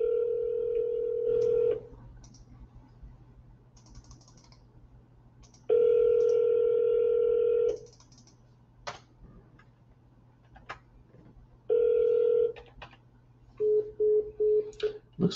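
A phone call placed on speakerphone: several long ringback tones separated by pauses, then short beeping tones and clicks, with no talking.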